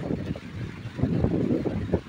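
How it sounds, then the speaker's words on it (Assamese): Wind blowing outdoors in a quiet open spot, gusting in uneven buffets against the microphone, with no voices. "বতাহো ইমান ধুনীয়াকৈ মাৰি আছে"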